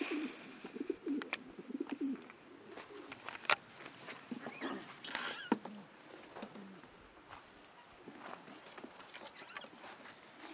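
Racing pigeon cocks coo softly in a loft in December, low throaty murmurs repeating irregularly alongside wing flutters and light scuffing, fairly close and quiet with no talking.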